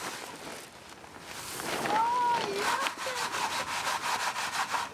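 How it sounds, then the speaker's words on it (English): Savoy cabbage seeds shaken through a coarse sieve to strip away chaff, a soft dry rustling and rubbing that swells and continues in close, gritty bursts. "the chaff is removed by first passing the seeds through a coarse sieve that retains the chaff"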